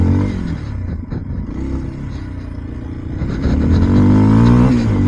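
Kawasaki KLX 230 motorcycle ridden off road, its engine droning loud and steady, then revving harder and rising toward the end.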